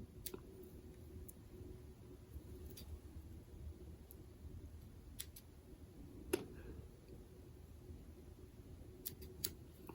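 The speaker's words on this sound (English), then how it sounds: "I will clip those off with my scissors." Small scissors snip off the ends of a hackle feather. A few faint, sharp clicks are scattered across a quiet background.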